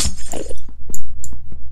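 Several glass blocks shatter in quick succession in Minecraft, a series of close, sharp crashing breaks with brief gaps between them and no talking.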